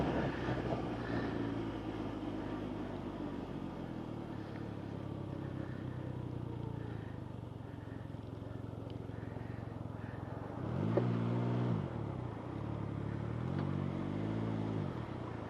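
A 2020 Can-Am Ryker three-wheeler in sport mode idles steadily up close, then its engine blips sharply twice near the end, with quick throttle revs rising and falling over a low rumble and some wind noise.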